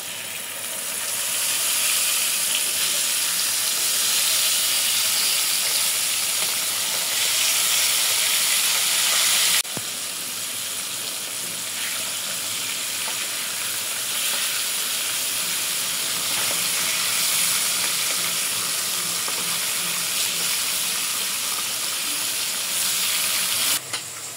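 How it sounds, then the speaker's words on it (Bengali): Hilsa fish frying in oil seasoned with salt and turmeric, producing a loud, steady, close sizzling hiss that runs for over twenty seconds with a brief dip partway through. "মাছ ভাজা হয়ে গেছে, উঠাই নেব।"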